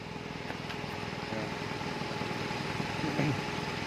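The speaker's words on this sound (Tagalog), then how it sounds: "Umandar na yung makina natin." Car engine idling steadily after a brand-new battery was fitted, a constant low rumble close by with a faint tone over it.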